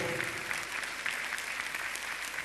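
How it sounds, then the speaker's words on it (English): At a Capital Markets Authority launch of a five-year strategic plan, an audience gives continuous applause, a fairly quiet, even patter of many hands clapping with no voices over it. "Let's give them a round of applause to the entire team that has made this possible."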